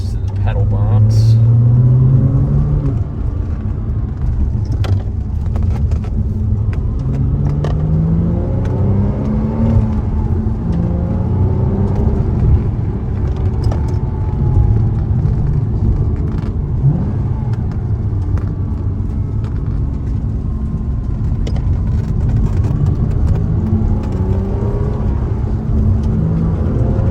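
A 2007 Porsche Cayman S with a naturally aspirated 295-horsepower engine and six-speed manual pulls hard from inside the cabin, a steady loud rumble rising and falling through gears while someone talks over it.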